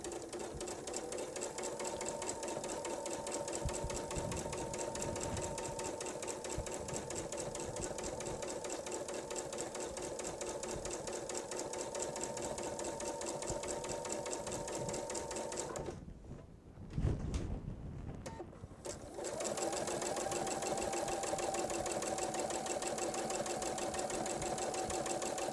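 A sewing machine stitching a seam for a kitchen set, a steady close mechanical hum of rapid stitching that stops briefly for a few seconds, then resumes and runs on.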